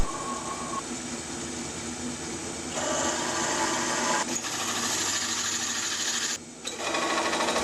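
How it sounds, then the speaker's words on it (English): Power drill boring holes in metal for a homemade ring roller bender, a steady loud whirring grind that shifts in pitch and intensity as the bit bites, with a brief dip near the end. "I'm going to drill some holes and see how that works."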